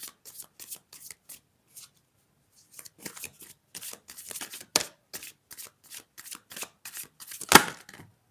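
Tarot cards are shuffled by hand in quick, crisp riffling bursts separated by short pauses, close and fairly quiet with no speech.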